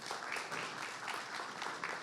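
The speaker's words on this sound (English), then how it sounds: "please give them a big round of applause" An audience at a business school event applauds as guests come on stage, a dense, continuous wash of clapping with slight swells, close and fairly loud.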